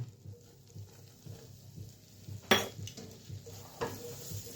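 A spoon stirs flour into melted butter in a pan, making soft repeated scraping strokes with a couple of sharper clinks against the pan, close and fairly quiet.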